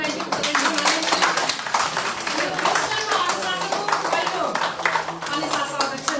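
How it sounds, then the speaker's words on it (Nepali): An audience at a Bhanu Jayantee celebration gives a steady round of clapping, dense close hand claps continuing evenly throughout. "हामी एकचोटि ताली लगाइदिउँ।"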